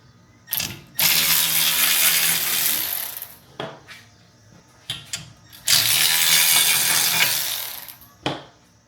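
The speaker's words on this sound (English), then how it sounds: "removing these two bolts with our 13mm socket" A ratchet with a 13mm socket backs out bolts on a reel mower, two long bursts of rapid clicking separated by short taps and knocks, close and clear.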